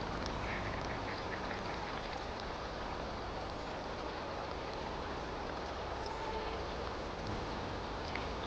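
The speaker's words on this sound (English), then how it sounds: "The ducklings, unable to find their mother duck," Chinese merganser ducklings give faint, scattered quacking calls over a steady outdoor hiss of flowing water, distant and low in level with no voices.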